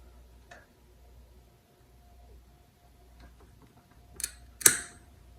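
A mini bike throttle cable's end cap is snipped off with cutters: after quiet handling noise, two sharp, close snapping clicks arrive in quick succession near the end.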